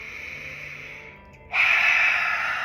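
An audible breath during a guided full moon meditation: a soft, airy rush of air eases off, then a louder, steady exhale swells and holds close to the microphone, with no talking.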